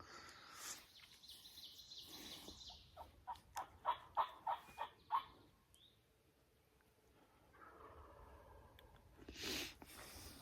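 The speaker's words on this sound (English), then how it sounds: "we're back on this bird again" Distant, faint wild turkey gobbles arrive as a quick rhythmic burst of notes from a ridge in the otherwise quiet New York countryside during a turkey hunt.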